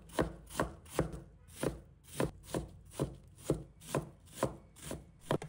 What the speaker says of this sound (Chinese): 另一半则细细切碎，颗粒饱满，为菜肴添独特口感。